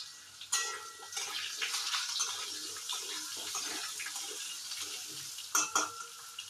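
Cut potatoes sizzle with whole cumin seeds in hot oil in a wok, a moderate crackling hiss with occasional sharp clinks and scrapes of a utensil against the pan.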